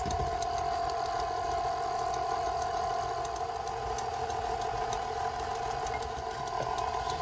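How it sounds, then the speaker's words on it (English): A stand mixer runs steadily on low speed, mixing cake batter with buttermilk for a pear cardamom cake, giving a continuous close motor hum with a sustained tone and no talk over it. "We're going to mix it up on low speed just until it's combined."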